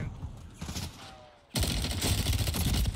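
Gunfire in Call of Duty on Rebirth Island in Resurgence mode, quiet at first, then a loud, dense burst of shots that continues steadily through the second half.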